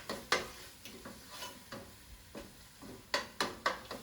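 A spoon stirs an eggplant mixture seasoned with ground black pepper, giving a series of close scraping and clacking strokes against the pot, a few sharper knocks clustered near the end.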